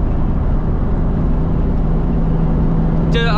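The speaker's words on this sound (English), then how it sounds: "Your car's so damn loud." Loud straight-piped Mustang rumbling steadily while cruising on a highway, a constant heavy engine drone filling the cabin, with a short voice near the end.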